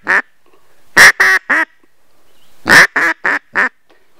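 A duck call imitates a hen mallard's abbreviated decrescendo call, loud and close, with two sets of four sharp quacks, each set trailing off, separated by a short pause.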